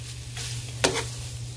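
Chicken and onion stirred in a frying pan, a soft steady sizzle with a low hum beneath and one sharper scrape of the utensil, close and fairly quiet.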